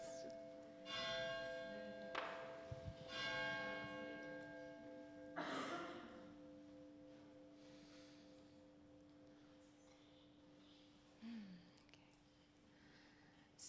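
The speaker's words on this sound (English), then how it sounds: "I love that bell" A church bell rings outdoors with several resonant strikes early on, each leaving a long humming decay that fades slowly, heard faintly and at a distance with no talk over it.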